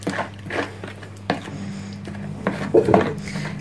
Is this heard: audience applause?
no